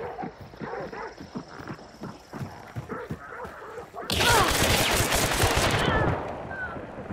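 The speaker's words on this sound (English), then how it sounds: "Is that you shooting?" Video game gunfire: after a few seconds of soft thuds and faint voices, a loud dense burst of rapid shots roars for about two seconds before cutting back to quieter background.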